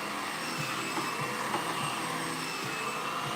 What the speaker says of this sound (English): Just type in comb attachment blow dryer.